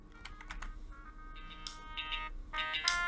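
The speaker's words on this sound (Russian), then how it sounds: "Какой-то незнакомый номер звонит." A phone rings with an incoming call from an unknown number. Its electronic ringtone comes in repeated bright tonal bursts, quiet and close, alongside soft keyboard typing clicks.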